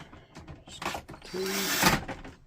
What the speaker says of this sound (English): And you're going to put the screws back in.